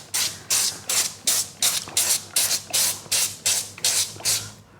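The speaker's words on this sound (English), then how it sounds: "I'm just going to spray them with some oil just so they don't dry out." Oil is sprayed onto rising dough in a quick series of about eleven short, evenly spaced hissing bursts, close and crisp, with no talking.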